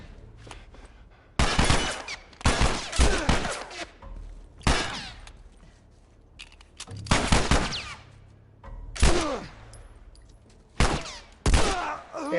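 Gunfire from The Last of Us video game rings out in several loud clusters of rapid shots with echoing tails, separated by short quiet gaps, and no speech.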